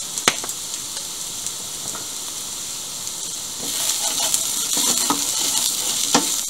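Chicken pieces with turmeric, cumin and other spices sizzle and hiss steadily in a frying pan, with intermittent scraping stir strokes that grow busier and louder in the second half.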